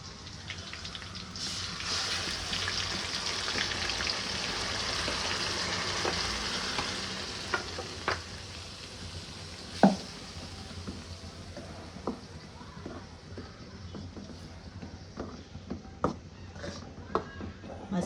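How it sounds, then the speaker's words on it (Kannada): Ground masala for egg sambar fries in a pan on the stove, giving a steady, close sizzle. The sizzle is loudest early and then softens, with sharp clicks and taps of stirring scattered through it. "ರುಬ್ಬಿರೋ ಮಸಾಲೆ ಬಾಂಡಿ ಒಳಗಡೆ ಹಾಕ್ತೀವಿ."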